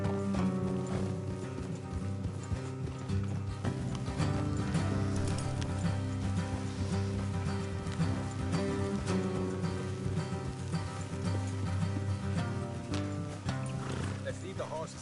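Horses trot along a road in the video game Red Dead Redemption 2, a steady clip-clop of hooves running under frequent spoken dialogue, with game ambience and faint music in the background.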